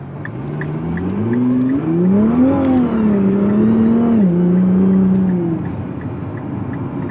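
Car engine accelerating hard on a road while merging, a steady rising and falling engine drone with harmonics sweeping upward, loud and close throughout with no talk.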